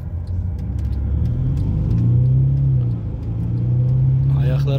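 A Mercedes E350 CDI 4Matic diesel pulls away from a standstill, its engine rumbling up in a steady climb, dipping at a gear change and then building again, close and loud from inside the cabin, with people talking over it.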